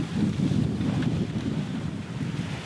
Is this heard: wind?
yes